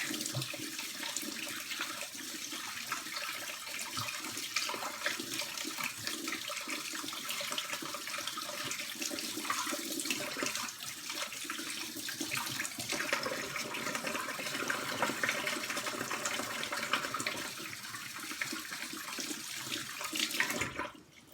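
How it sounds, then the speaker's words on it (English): Water runs steadily from a tap as hands are washed, a continuous broadband rush that holds close and fairly loud throughout with no talking, cutting off abruptly at the very end. "now give our hands another quick wash"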